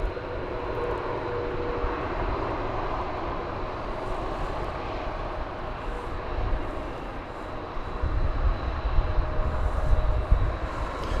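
An American Airlines airliner in retro livery, bound for Oklahoma City, roars at an airport, a broad steady jet engine rumble that swells slightly toward the end.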